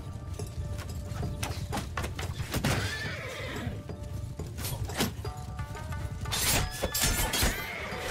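Horse hooves clatter in rapid clip-clop over a battle in the Bannerlord Shokuho total conversion mod, with whinnies, weapon impacts and crashes mixed in, fairly loud and continuous.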